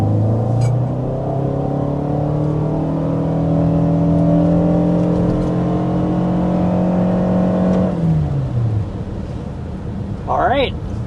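A 2026 Toyota Sienna hybrid with a 2.5-liter four-cylinder engine and electric hybrid components accelerates to 60 mph. A steady engine drone rises in pitch and holds loud throughout, then eases off near the end, with someone talking over it.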